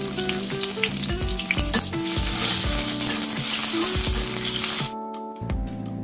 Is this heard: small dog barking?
no